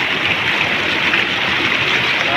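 Floodwater rushes steadily across flooded rice fields in Naujan, Oriental Mindoro, a close, continuous broadband wash of flowing water with no pauses.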